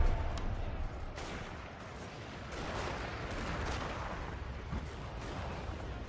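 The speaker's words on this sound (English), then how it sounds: "We're gonna focus in all the artillery on them." Artillery firing during a Fall of the Samurai strategy game battle, a steady rumbling din with repeated booming shots and crackling gunfire throughout.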